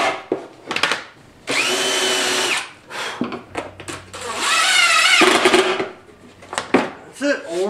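A power drill bores countersinks and drives screws into wood during a truck camper build, in two sustained whirring runs broken by tapping and handling sounds.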